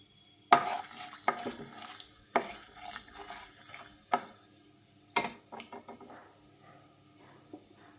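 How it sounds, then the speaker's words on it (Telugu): Mustard seeds, curry leaves, dried red chillies and urad dal tempering in hot oil for a pumpkin stew, heard as a sharp pop and crackle over a low sizzle, with scattered spoon scrapes against the pan and no talking. "ఆయిల్ వేడెక్కాక పోపులు వేసాను"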